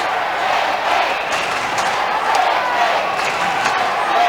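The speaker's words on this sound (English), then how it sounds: "Not a big crowd, but a very vociferous one. They are loud in their support of the Swans" Vocal football crowd at a 1991 Adelaide Crows versus Sydney Swans match, cheering loudly in support of the Swans; a continuous roar of voices without pause, with occasional louder shouts rising out of the din.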